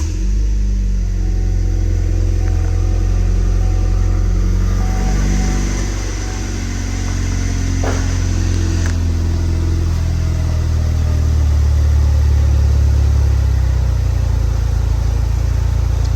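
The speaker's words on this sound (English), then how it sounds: "start it up. Remember, this has a K&N air filter and a Dynaglow exhaust" A sports car fitted with a K&N air filter and a Dynaflow exhaust cranks over and settles into a steady idle, a deep, close, continuous rumble that swells slightly toward the end, with no talking.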